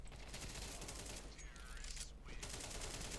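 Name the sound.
gunfire in a video game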